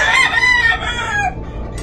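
A Dom gamefowl rooster at a gamefowl expo pen gives a single loud, close crow that trails off into softer clucking, with no talk.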